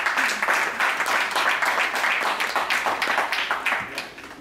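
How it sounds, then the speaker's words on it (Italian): Audience applause at a comics festival in Albissola: a dense crowd of many hands clapping steadily and loudly throughout, easing off slightly at the very end, with no voices over it. "a cui io farei un bellissimo applauso"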